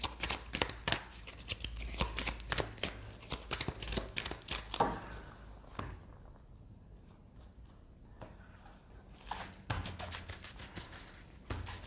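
Tarot cards being shuffled and handled at close range, a dense run of soft riffling flicks and taps that pauses midway, then resumes with a few more shuffles; no one speaks.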